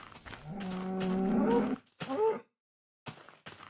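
Cows mooing in Minecraft Beta 1.7.3. One long, loud low moo is followed by a shorter moo and then brief clipped animal sounds, set against a quiet game background.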